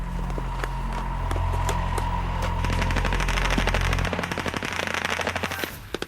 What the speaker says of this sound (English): The attack began with flares and machine gun fire once we'd crept as close as we could in the pitch dark.